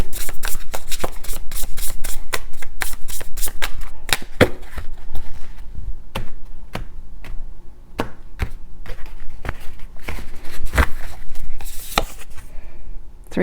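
Tarot cards being shuffled quickly by hand, a dense run of crisp riffling snaps and flutters with a few sharper slaps, close and fairly loud throughout without any voice.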